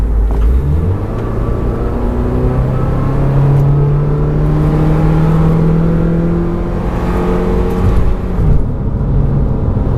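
A 2014 Subaru Legacy 2.5i accelerates hard from 50 to 100 km/h, its engine note climbing steadily and loudly through the rev range from inside the cabin, with a brief dip near the end.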